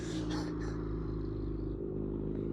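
A cheap project Honda Civic engine runs at a rough, steady idle, a close, even droning rumble with faint clatter and no talk.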